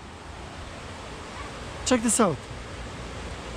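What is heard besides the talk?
river flowing over a small dam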